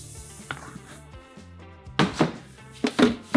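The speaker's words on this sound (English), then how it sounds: "now I'm gonna start mixing in my oats and my rice hulls." Oats and rice hulls being stirred into a beer mash for a milk chocolate stout, giving a few scattered thuds and scraping bursts over a steady tonal background.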